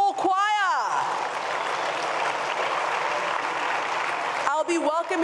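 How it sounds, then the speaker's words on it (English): Audience applause for a school choir at a foundation event, a steady wash of clapping for several seconds, with a presenter's voice heard briefly at the start and again at the end. "Can we get a round of applause for the Unity School Choir?"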